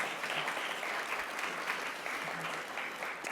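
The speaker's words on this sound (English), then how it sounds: "Let's give him a round of applause." Steady applause from an audience, a dense wash of clapping hands that holds evenly throughout without letting up.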